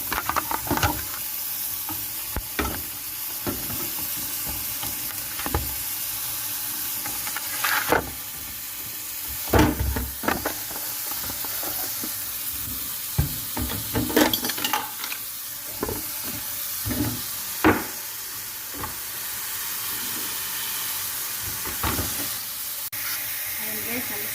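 Onions frying in a hot pan with steady sizzling hiss, broken by repeated scraping stirs and clanks of a utensil, heard up close.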